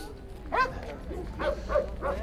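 East Siberian Laika dogs at a hunting dog show yelp and bark in several short, close cries, spaced about half a second apart, while someone talks beneath them.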